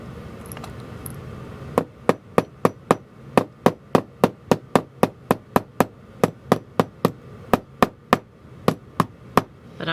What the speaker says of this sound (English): you can almost come in and hammer from the top.